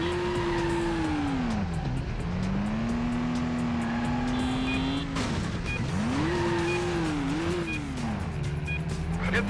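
A car in the stunt-driving game Stuntman whips through a 180 handbrake turn, engine droning loudly while tires squeal and skid in long sweeping tones, with a second slide later; a voice talks briefly over it.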